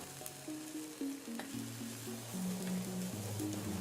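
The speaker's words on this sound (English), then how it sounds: "Now the second it hits, you should hear that nice sizzle." Buckwheat pancake batter sizzles steadily in a hot pan, a soft continuous crackle and hiss heard close and alone. A faint background tone runs underneath.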